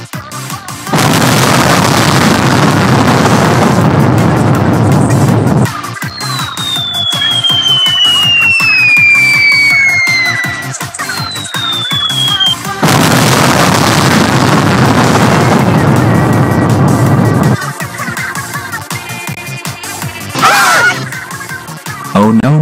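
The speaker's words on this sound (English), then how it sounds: "Fire the cannon, Amanda." Loud, dense battle noise with repeated booming blasts like cannon fire, broken by a quieter stretch where shrill whistling sweeps streak overhead.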